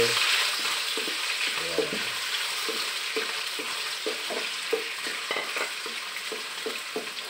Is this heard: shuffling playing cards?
no